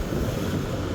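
Wind blows in a steady, loud rush across the microphone outdoors at night in Vientiane, Laos, a continuous broadband roar with no voices.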